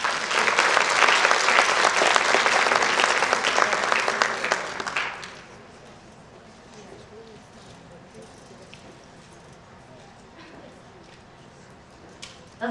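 An audience welcoming a speaker breaks into loud, dense applause for about five seconds, then it cuts off abruptly, leaving a quiet room with faint murmurs and a voice starting to speak.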